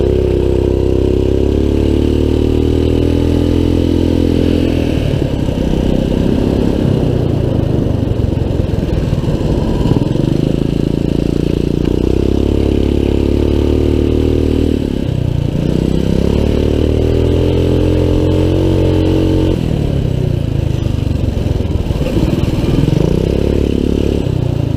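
A Trailmaster MB200 minibike engine with upgraded rear suspension on a test ride, heard loud and close as a steady buzzing drone, with the throttle easing off and building again several times and a faint mechanical clatter underneath, no talk.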